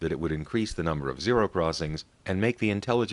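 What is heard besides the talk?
None of the usual background noises is heard.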